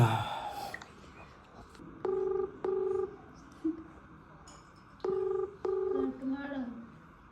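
A phone keypad beeps out dialing tones in two clusters of three crisp, evenly spaced tones, heard close and clear in a quiet room.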